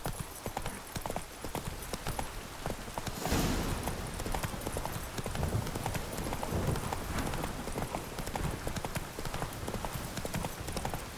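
A horse gallops in The Witcher 3, rapid rhythmic clip-clop hoofbeats running steadily and close for the whole stretch, the pace briefly intensifying early on, with no voices over it.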